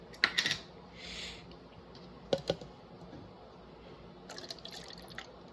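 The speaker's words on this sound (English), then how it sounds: "I'm gonna pour my orange juice as well." A quiet pour of orange juice near the microphone, framed by several clicks and knocks of a container, with no speech.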